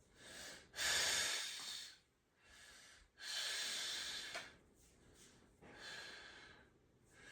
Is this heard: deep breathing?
yes